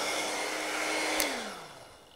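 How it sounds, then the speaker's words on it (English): A household hairdryer blows with a steady whooshing hum at moderate level, then clicks off and winds down, its motor pitch sliding lower as it fades out. "This is my very own hairdryer."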